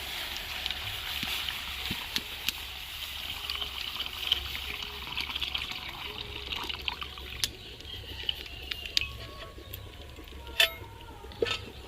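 A kilo of cow's milk pours into a wok as a faint, steady trickle, broken by occasional soft clicks.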